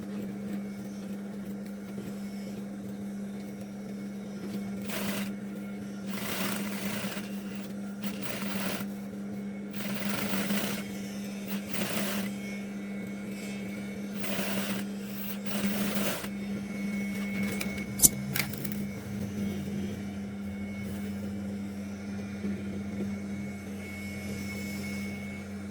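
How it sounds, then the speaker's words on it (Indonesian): A sewing machine stitches down the sides of a hijab in a series of short whirring bursts separated by pauses, under a constant low electrical hum, close and fairly soft, with a single sharp knock near the end. "Jahit sisi hingga bawah hijab. Lalu jahit bagian lehernya."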